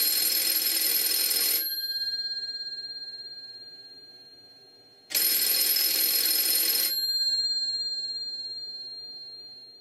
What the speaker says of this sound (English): So now let's listen to the ringing at the called station.